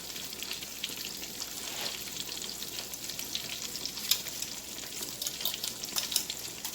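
Cooked food is mashed by hand in a home kitchen, making soft, steady squelching and scraping close by, with sharper wet clicks scattered throughout and no talking.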